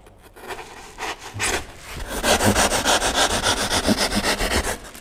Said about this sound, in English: You drill it again.